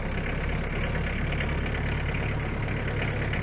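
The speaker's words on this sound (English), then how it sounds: "So this is like a 100 horsepower loader tractor." A Kubota 100-horsepower loader tractor on a farm with Highland cattle, its diesel engine running at a steady idle, a close, constant low rumble throughout with no talk.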